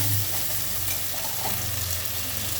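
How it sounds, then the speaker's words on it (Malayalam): Green chilies and tomato sizzle steadily in a pan for a fish curry, with continuous stirring scrapes over the hiss of hot oil, close and even throughout. "പച്ചമുളക് ഇട്ട് കൊടുക്കാം. നമുക്ക് നന്നായി ഒന്ന് ഇളക്കി കൊടുക്കാം."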